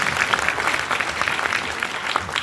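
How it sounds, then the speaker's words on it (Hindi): An audience at a Hindi poetry recital applauds steadily, a dense wash of many hands clapping at moderate level, with no voices over it. "ताली वाली भरपूर हो जाएगी।"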